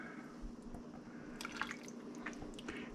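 Cooking liquor from boiled corned beef being added back over the meat, a faint sequence of small drips and splashes trickling close by against a quiet background.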